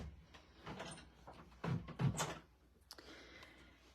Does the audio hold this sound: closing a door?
yes